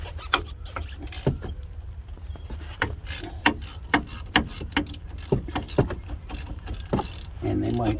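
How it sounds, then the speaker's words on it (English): Ratchet cracking loose the two 14mm caliper bolts on a 2006 Jeep Commander during a front brake and rotor change, a series of sharp metallic clicks and clacks in an irregular rhythm, close and fairly loud, with a short low rumble near the end. "you have two 14mm bolts here and here on the caliper itself. And you crack them loose."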